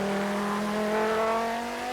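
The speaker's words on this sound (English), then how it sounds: "certainly a very, very tough Wesbank modified saloon car racing" A Wesbank modified saloon race car on a circuit, its engine holding a loud, steady high drone with rising harmonic tones as it accelerates, close and continuous.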